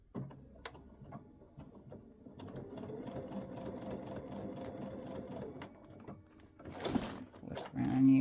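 A sewing machine runs a satin stitch down the middle of felt pieces, its rapid needle chatter holding steady for a few seconds, then a short pause and a brief burst of handling noise.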